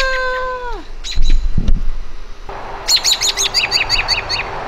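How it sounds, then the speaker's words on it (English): Four newborn baby birds in a nest give rapid, high repeated chirps near the microphone, after some earlier whistled tones and a few thumps. "Baby birds."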